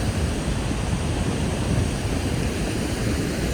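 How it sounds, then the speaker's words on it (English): Wind blows outdoors beside the wide Ottawa River, with water washing along the shore. The roar is broadband, steady and loud throughout, and the wind buffets the microphone. "But this is the Ottawa River."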